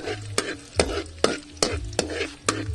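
Garlic sizzling in oil in a frying pan, with a utensil stirring it in regular strokes roughly every half second over a steady close hiss.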